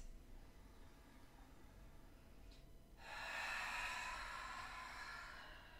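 A deep, audible breath during yoga practice, a long rushing breath swelling midway and holding steady, close and soft against a quiet room.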